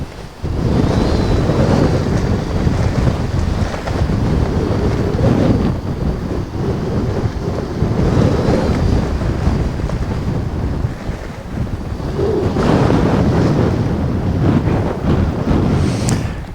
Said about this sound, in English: this wind doesn't push this area down at all